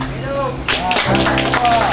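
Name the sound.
applause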